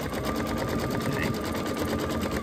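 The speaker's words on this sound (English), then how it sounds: "It's just literally stitching a design on it" An embroidery sewing machine stitching a design in the hoop runs with a fast, steady mechanical whirring and rapid needle clatter, close and continuous throughout.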